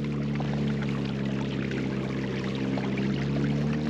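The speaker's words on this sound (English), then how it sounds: "A lot of foam means more rapids up ahead." Water rushes over rocks in river rapids in the Maine wilderness. The roar is steady and continuous, broadband and fairly close, with a low churning hum underneath and no voices.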